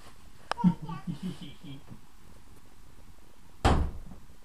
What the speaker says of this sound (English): Close the door on Daddy.